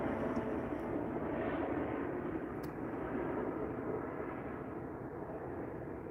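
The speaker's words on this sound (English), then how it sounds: "That helicopter sounds a little weird." A helicopter flying overhead at night over a river fishing spot in DC, a steady broadband rumble that stays constant and fairly faint throughout.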